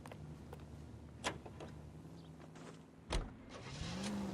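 A car drives in the L.A. Noire video game, with a low engine hum and a few faint clunks and thumps, then a rising whine near the end, quiet with no talking.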